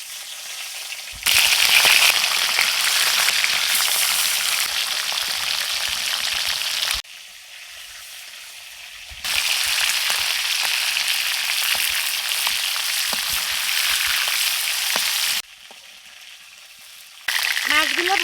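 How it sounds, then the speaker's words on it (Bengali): Katla fish pieces dusted with turmeric and salt sizzle loudly in hot oil in a wok, a dense crackling hiss that dips quieter between bursts as pieces are turned. "তেল গরম হয়ে গেছে, এবার মাছগুলো দিয়ে দেব।"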